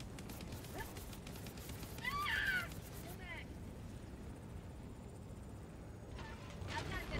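A cat gives one short meow partway through, set against a steady low rumbling background.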